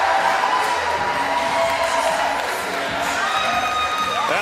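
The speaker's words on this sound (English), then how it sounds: "Cheering on the reigning Empress, Missy Parkin" Fans cheering and whooping at the 2021 PBA King of the Lanes Empress Edition bowling tournament, a sustained loud crowd roar with scattered shouts and whistles throughout.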